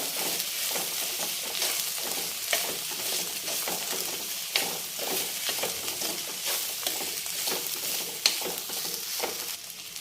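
Ivy gourd pieces with turmeric fry in a pan, giving a steady close sizzle with repeated scraping and stirring clicks from a spatula, no voices.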